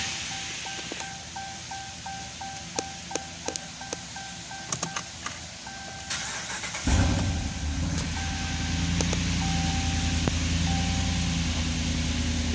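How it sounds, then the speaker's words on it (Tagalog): A car engine with a clicking noise on cold start cranks and catches about halfway through, then settles into a steady, fairly loud idle, after some repeated ticking chimes from inside the car. "andarin na natin yung sasakyan kasi papakinggan natin guys kung may tunog pa"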